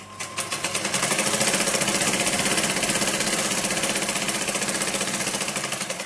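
A sewing machine stitches a strip on a blouse, running in one sustained, fast rhythmic whir that rises quickly, holds steady for several seconds and eases off, close by and without speech.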